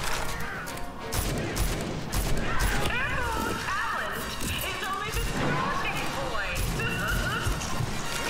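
Gunfire from the video game Rage 2 comes as a rapid series of sharp, loud bursts mixed with crashing impacts and chaotic combat noise, with a voice talking over it.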